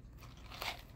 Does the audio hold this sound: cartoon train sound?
no